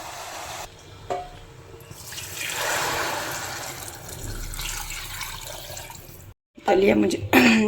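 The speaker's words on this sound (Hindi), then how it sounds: "दलिया मुझे थोड़ा गीला अच्छा लगता है, इसलिए मैं बहुत सारा पानी डाल रही हूँ।" Water pours steadily into a pot of porridge (dalia) on a kitchen stove, a continuous splashing gush that rises and fades, followed by a brief silence and then someone speaking.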